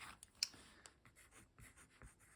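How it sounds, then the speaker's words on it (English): A pen writes on the back of a piece of artwork, producing faint, close, scratchy strokes in short irregular bursts. "So let us write here"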